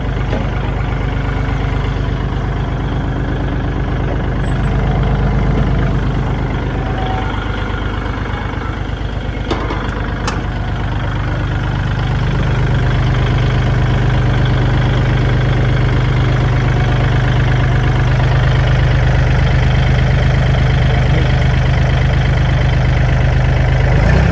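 A 2019 Kubota L4018DT tractor's engine idles steadily and loudly nearby, a continuous low diesel rumble with no talk.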